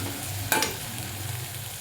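Chopped green chilies stir-frying in a pan for a mixed leafy-greens dish, a low steady sizzle with a brief louder stir scrape near the middle.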